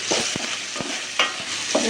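Chicken frying in a pan for butter masala, a steady close sizzle with a few soft scrapes of stirring, no voices.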